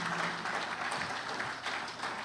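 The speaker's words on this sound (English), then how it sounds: "So can we just applaud him once again?" Audience at a legal advisers' forum applauding a presenter, a faint, steady wash of many hands clapping in a hall.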